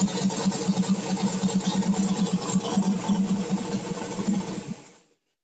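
A car engine with an E85-fuelled blow-through carburetor runs at a rough, pulsing idle after a cold start on a warm day, loud and close, with an uneven chugging rhythm until it cuts off abruptly near the end.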